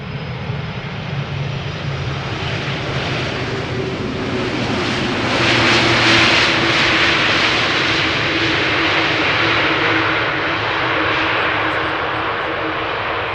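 An airplane arriving at Amsterdam Schiphol Airport's Polderbaan runway gives a steady, broad engine roar that swells louder midway and then holds as a sustained rumble, heard alone.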